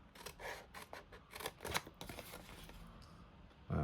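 Scissors snipping through card for a homemade Christmas advent calendar, a quick close run of crisp cuts with rustling paper between them.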